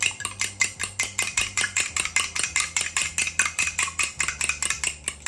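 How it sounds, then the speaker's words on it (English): A fork rapidly beats one egg with a tablespoon of heavy whipping cream in a bowl for an egg wash, producing a fast, steady run of close clinking taps with no talking. "It's just a tablespoon of heavy whipping cream to 1 egg and beat it up."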